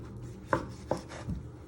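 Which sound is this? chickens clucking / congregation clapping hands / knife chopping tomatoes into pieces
knife chopping tomatoes into pieces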